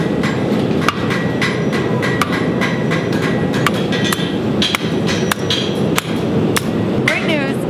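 Repeated hammer blows on hot metal at a forge ring out, loud and close, in an uneven rhythm of sharp strikes over a steady low roar.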